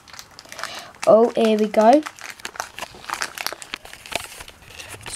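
Crinkling and tearing of a Euro 2016 sticker packet being pulled open, a few loud crackling bursts close to the microphone, followed by softer rustling while a voice speaks briefly.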